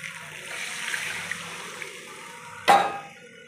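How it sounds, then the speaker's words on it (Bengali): Water poured into a pan of Kashmiri dum aloo simmering in spiced oil gives a sudden close splash and rush after a soft background hiss, then fades quickly. "এবার আমি জল দিয়ে দেবো"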